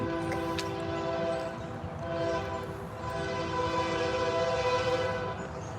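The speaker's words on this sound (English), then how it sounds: "There goes a train." A Norfolk Southern freight train rolls past close by, a steady low rumble with sustained horn-like tones ringing over it for the whole stretch.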